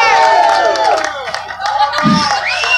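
A crowd at a pirate festival show in Las Vegas cheers and claps loudly in a short burst, with shouts rising over the applause.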